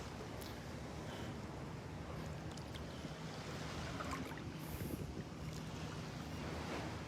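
Small swells and little waves roll in at Delnor-Wiggins beach, a soft, distant wash blended with steady wind rumble on the microphone, faint and continuous with no talk.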